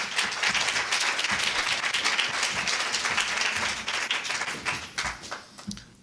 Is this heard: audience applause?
yes